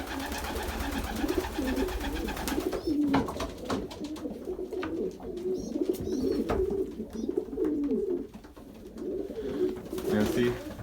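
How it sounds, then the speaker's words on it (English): Young pigeons about eighteen days old coo steadily in a loft, soft overlapping murmurs running throughout at close range, with occasional flutters and shuffling. "Let's get some shots of these birds."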